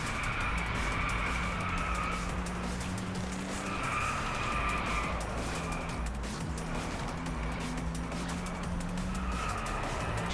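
Sport cars racing in the Driveclub video game, engines droning continuously with repeated long tire squeals and skids rising and fading across the track, loud and sustained without pause.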